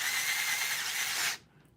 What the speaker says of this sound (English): Just need more drill power.